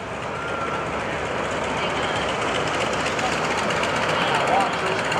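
Jet engines of a Rockwell B-1B Lancer bomber roar steadily at an airshow, a loud, continuous broadband rush that holds level throughout.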